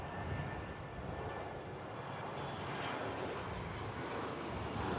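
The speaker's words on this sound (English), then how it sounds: "Here comes an American Airlines 737-800 from Mexico City." An American Airlines Boeing 737-800 jet approaches over an airport, a broad, steady roar that stays fairly faint and distant throughout, with no voices.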